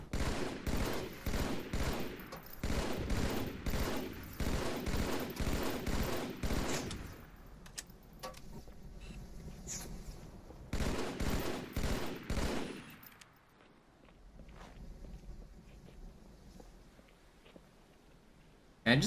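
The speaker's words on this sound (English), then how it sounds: "Dude, I'm being sniped at." Video game gunfire as a sniper shoots, with rapid rhythmic bursts of shots during the first seven seconds, another burst around ten to thirteen seconds, then quieter stretches between them, with faint speech.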